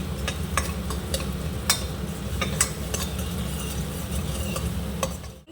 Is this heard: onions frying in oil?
yes